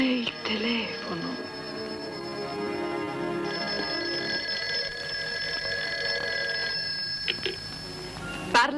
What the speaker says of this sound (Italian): Ma è il telefono.